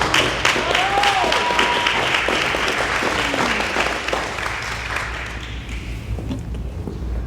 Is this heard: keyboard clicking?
no